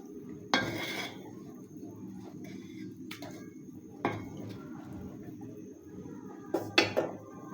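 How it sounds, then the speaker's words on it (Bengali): A spoon scrapes and clanks against a pot while beef biryani ingredients are stirred and mixed, giving a few sharp metallic knocks spaced over a quiet background. No one speaks. "লবণ দেওয়ার পর এখন খুব ভালোভাবে এটা নেড়ে চেড়ে মিশিয়ে নেব"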